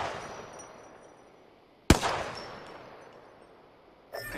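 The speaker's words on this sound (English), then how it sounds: "Listen up, I'm getting shot at." A single sharp gunshot in the Apex Legends shooter, fairly faint overall, with a crisp crack followed by a long fading tail over steady background ambience, then a brief second impact near the end.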